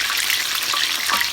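Eggplants fry in hot oil in a pan, giving a steady bright sizzle and crackle that continues without a break, close and fairly loud.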